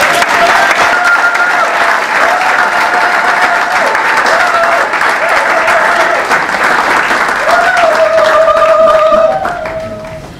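An audience breaks into loud, sustained applause at a book signing event, dense clapping that holds steady for about nine seconds before fading, with a few voices calling out over it.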